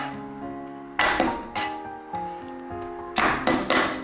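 Garlic cloves get whacked flat with the side of a kitchen knife on a cutting board. Several sharp, ringing knocks land in uneven pairs and clusters, close and distinct against a quiet kitchen.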